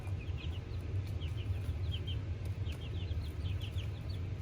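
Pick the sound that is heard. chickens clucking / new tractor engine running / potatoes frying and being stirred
chickens clucking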